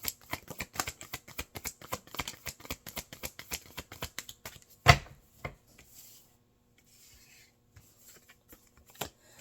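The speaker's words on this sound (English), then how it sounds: "I'm going to give it another shuffle." Tarot deck shuffled by hand up close, a rapid run of crisp card slaps and riffles for about five seconds, a sharp knock, then sparse soft handling sounds.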